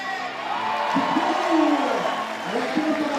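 Crowd at an IFSC men's bouldering semi-final in Prague roars and whoops as Mejdi Schalk launches for the top, a sustained swell of cheering with commentators talking over it.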